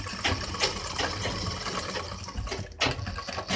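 Sewing machine stitching the fly of a pair of trousers, running in fast mechanical bursts with a brief pause near the end before starting up again, close and fairly loud.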